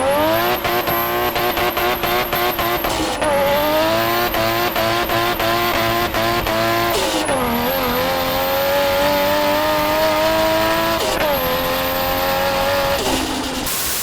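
A 500 hp 1JZ-swapped Nissan S15 Spec R roars close and loud, revving hard through repeated gear changes with rising engine pitch and brief tire squeal, continuous for the whole stretch with no talking.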